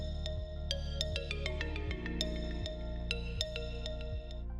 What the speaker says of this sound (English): This allows the reverb to be compressed along with the instrument